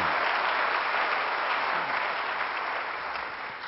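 A church congregation applauds the sermon during a service, thick continuous clapping filling the room, fading slightly at the end.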